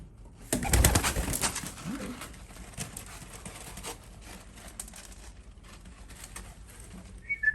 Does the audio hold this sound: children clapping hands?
no